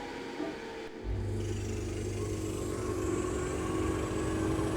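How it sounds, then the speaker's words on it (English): A Hobarts VLS 3.60DT laser cutter and its local exhaust ventilation switch on, with a steady motor and fan drone that starts suddenly and holds loud and constant. "we turn on the laser cutter as well as the local exhaust ventilation"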